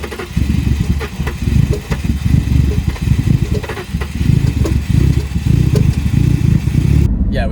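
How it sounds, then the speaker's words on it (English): Turbocharged BMW E30 drift car engine idling roughly after long cranking, a loud close uneven chugging with irregular pulses, stumbles and clattering misfires, cutting off abruptly at the end. "We had it idling badly, really badly."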